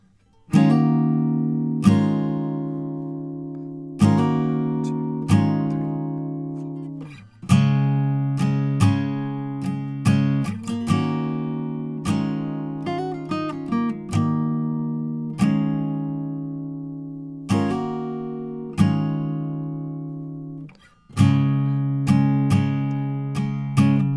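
Acoustic guitar playing the verse with barre chords, strummed chords ringing out and repeating in a steady pattern with a few picked fills, clear and alone.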